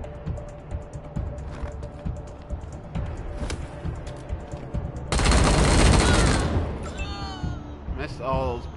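Point-blank gunshots in the Wasteland 3 video game: a rapid fusillade of sharp shots in a burst, with game sound effects and a voice afterward.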